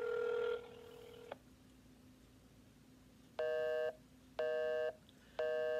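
Phone call tones on a Verizon line: a steady tone that cuts off, a pause with low hum, then three evenly spaced busy-signal bursts, close and clear with no talking.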